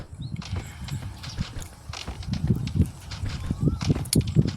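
Footsteps in the mobile shooter Sausage Man: quick repeated thuds of running feet, fairly close, with game effects and voices talking over them.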